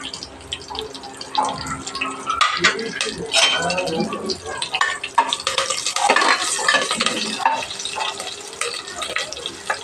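Green chillies fry with cumin in a pan, stirred with repeated scraping and clattering over a continuous sizzle, loud and close throughout.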